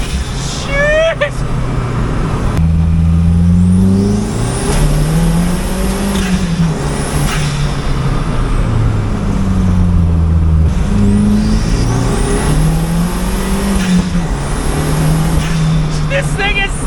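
A light VW MK1 Golf with a 1.8-litre turbo engine and all-wheel drive accelerates, its engine note climbing and falling through gear changes, loud and close from inside the cabin, with someone talking over it.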